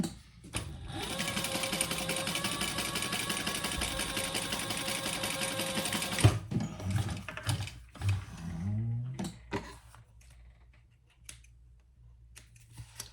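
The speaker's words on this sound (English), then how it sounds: "And then you're going to sew across the bottom." A sewing machine stitches across the bottom of a crossbody bag, running in a steady loud whir for about six seconds before stopping, followed by handling clicks and thumps of the fabric.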